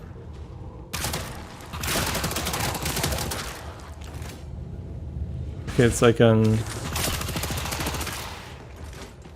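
Rapid automatic gunfire bursts from a submachine gun or assault rifle in the video game Mortal Shell II, loud and dense, with a sharp louder volley near the end; a voice talks briefly over it.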